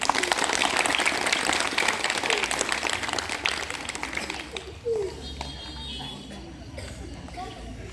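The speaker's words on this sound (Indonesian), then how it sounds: "Nah, tepuk tangan dulu." A scout camp crowd at a nighttime campfire gathering claps together in dense, loud applause that fades out after about five seconds, leaving quieter ambient murmur and scattered sounds.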